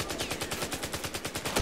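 Gunfire in Battlefield 4 during an Obliteration match, a steady rapid string of automatic shots at an even rhythm, loud and close throughout.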